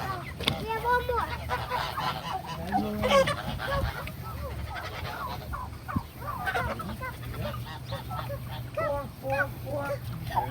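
Turkeys calling on a farm, a flock giving repeated gobbling and honking calls at close range over a steady low hum, with scattered overlapping cries throughout.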